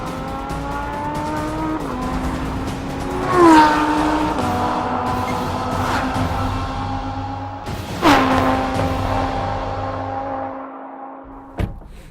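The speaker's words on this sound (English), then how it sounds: "we'll set off with a Lamborghini and see how long it takes to catch up to the 86 and pass it" A Lamborghini Huracán revs hard through its gears, pulling up to and past a Toyota 86, with loud rising engine notes, sharp upshift breaks around three and eight seconds, and a steady high-rpm roar throughout, no voices.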